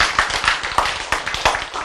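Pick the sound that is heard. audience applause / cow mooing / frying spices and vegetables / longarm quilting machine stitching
audience applause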